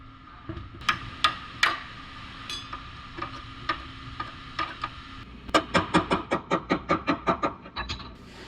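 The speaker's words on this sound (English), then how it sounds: "I'll finish repairing the outer wheelhouse with a hammer and dolly" Sharp metallic hammer blows with a hammer and dolly against an Audi quarter panel's sheet metal, scattered at first, then a fast, steady run of a dozen ringing strikes.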